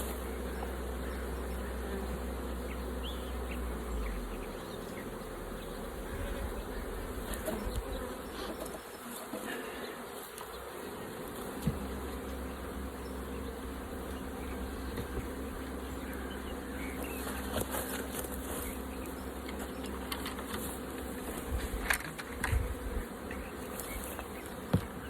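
Honeybees buzz around opened, disassembled hives in a backyard apiery, a dense continuous hum with individual bees droning close by, and a low rumble underneath.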